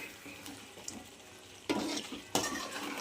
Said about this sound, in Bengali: আমি এইভাবে মাংসটা সুন্দর করে কষিয়ে নিয়েছি